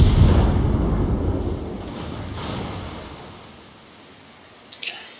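Warship main guns in a naval video game fire with a deep, heavy boom that rolls on as a long fading rumble, followed by a couple of small faint pops near the end.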